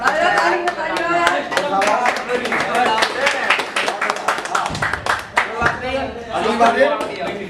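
Scattered hand claps ring out around a CrossFit competition in a gym, sharp irregular smacks mixed with someone talking loudly over them throughout.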